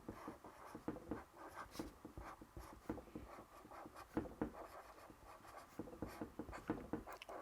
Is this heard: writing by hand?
yes